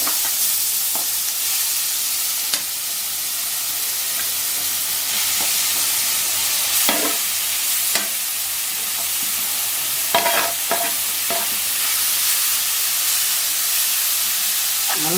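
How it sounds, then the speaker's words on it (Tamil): Grated beetroot sautés in ghee with a loud, steady hissing sizzle, punctuated by repeated scraping strokes as a spoon stirs it around the pan. "அதே நெய்யில் இப்போ பீட்ரூட்டை போட்டு நல்லா வதக்கலாம்."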